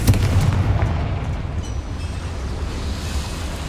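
Confringo, a fire spell in the Hogwarts Legacy video game, goes off inside a goblin mine with a deep booming blast. A long rumbling roar follows and slowly fades, with no voices over it.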